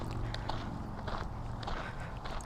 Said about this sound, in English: There's gravel that I'm walking on right now, and it literally sounds like I'm in Minecraft.